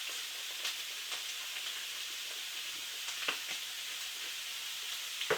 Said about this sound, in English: we're going to keep stirring this, breaking the sausage up as it's browning